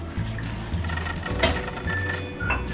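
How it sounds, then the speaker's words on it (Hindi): Half a glass of water pours into a blender of amla juice mix with black salt, roasted cumin and mint leaves, a steady close splashing stream with brief surges, alone without talk. "अब इसमें हम 1/2 गिलास पानी डालेंगे"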